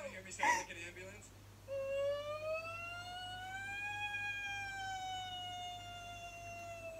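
A voice imitates an ambulance siren, a drawn-out rising and falling wail held for several seconds after a brief spoken remark, fairly close and clear.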